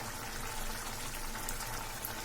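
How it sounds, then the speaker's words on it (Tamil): A pan of thick egg pepper masala bubbles and simmers steadily, a dense, hissing boil close by with no voices. "நம்மளோட எக் மசாலா வந்து நல்லா கொதிக்க ஆரம்பிச்சிருச்சு"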